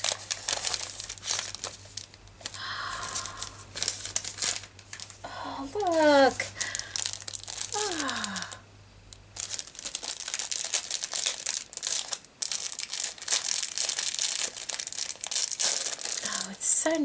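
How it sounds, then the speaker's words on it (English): A gift bag being opened and handled up close, with loud, irregular crinkling and tearing in bursts, while someone talks over and between the rustles. "Sorry for the crinkling"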